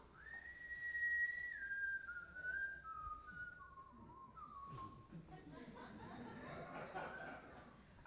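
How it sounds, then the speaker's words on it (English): A person whistles a slow, descending melody of long sustained notes, fairly faint and distant, followed by soft laughter and murmuring voices in a church service. "I believe he's whistling."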